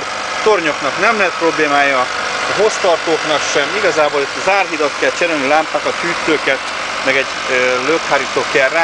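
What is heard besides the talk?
Suzuki 1.3 engine idling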